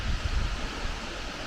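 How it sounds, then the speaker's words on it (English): Brekkefossen waterfall in Flåm, Norway, rushing water heard as a steady broad roar with some low wind buffeting on the microphone, continuous and fairly close, with no talking. "The waterfall."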